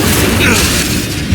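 The Incendio fire spell bursts in Hogwarts Legacy, a loud, dense whooshing blast with a low boom that fills the whole brief moment without pause.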